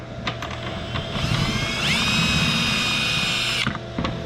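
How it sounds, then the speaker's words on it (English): A power drill whirs up to a high, steady whine for a couple of seconds while drilling a bolt hole through a Dodge Durango rear fascia, then stops, with clattering and handling noise around it. "we're going to match drill the hole that's in the diffuser already into the fascia"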